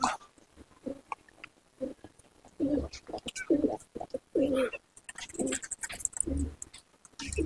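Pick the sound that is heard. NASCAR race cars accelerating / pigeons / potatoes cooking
pigeons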